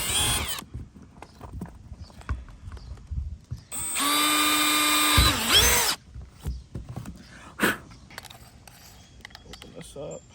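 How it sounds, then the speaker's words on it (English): Power drill boring a pilot hole for a trolling motor plug on a Native Watercraft Titan X 12.5 kayak, one loud, close whirring burst of about two seconds amid quieter handling noises and talk. "So I'm just going to start with just a pilot hole, that way we know we're good"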